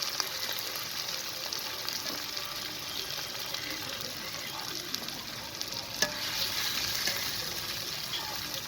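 Small tomatoes from a garden plant sizzle and fry in a kadai for a pangas and tengra fish curry, a steady close crackle with occasional stirring scrapes and no talking.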